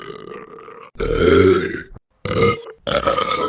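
Several AI-generated burp sound effects from a soundboard play one after another, each a loud, gurgling belch close to the mic, split by brief silent gaps.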